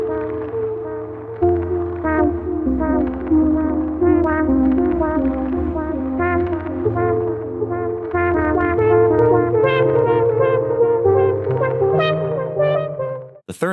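A melodic musical sequence run through a tape-style delay with low and high shelf EQ, giving an analog character: plucked notes repeat in a steady rhythm over sustained bass tones, clear and upfront with no voices.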